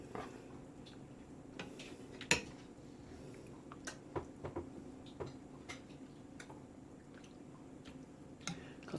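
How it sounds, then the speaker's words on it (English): Homemade beef and vegetable soup ladled into a bowl, with scattered light clinks, taps and soft drips against a quiet, steady kitchen background. "I'm getting ready to plate me a bowl up just to show y'all how it turned out"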